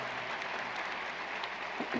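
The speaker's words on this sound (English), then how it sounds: "Let's give them another round of applause." Steady broadband applause from a large audience at a Florida State University commencement ceremony, continuous and fairly even throughout, heard from a distance with no voices over it.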